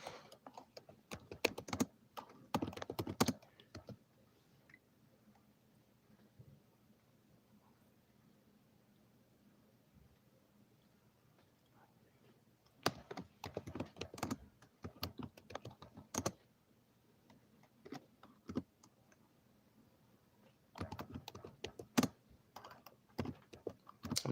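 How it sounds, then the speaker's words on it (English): Typing on a computer keyboard comes in three bursts of rapid, close clicking keystrokes, separated by long stretches of quiet room tone. "I'm just typing this one."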